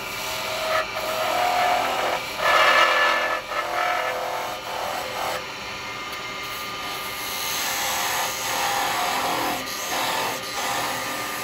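Wood lathe spinning a Christmas nutcracker blank while a flat-presented carbide chisel parts it off, a steady loud whirring rasp with shifting scraping bursts throughout.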